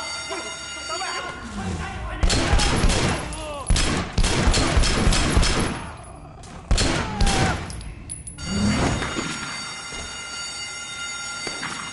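Rifle gunfire in the video game Sleeping Dogs during a hospital shootout: rapid bursts of loud, sharp shots in several clusters with gaps between, and a person speaking over the action.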